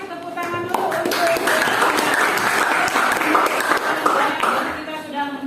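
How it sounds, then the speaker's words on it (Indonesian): A classroom of students claps together in a lively burst of applause, loud and close, the clapping dense and continuous for several seconds with faint voices mixed in. "Tepuk tangan dulu untuk"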